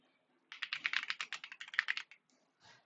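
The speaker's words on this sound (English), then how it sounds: "I'll type in English first." Rapid typing on a computer keyboard, a quick close burst of about twenty clicking keystrokes lasting over a second, then a brief pause and a softer final press, heard alone in a quiet room.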